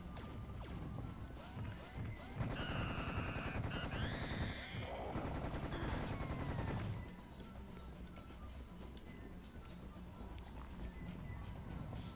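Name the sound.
machine gun fire from scorpion enemies in a video game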